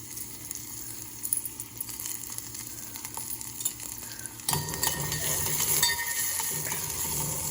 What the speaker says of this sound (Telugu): ఉల్లిగడ్డలు వేసిన తర్వాత ఇక మిరపకాయలు కూడా వేస్తున్నాను